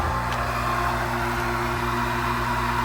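Water supply pump for a house without a well, running continuously with a steady tonal hum and broad hiss, fairly loud and unchanging, with no talking.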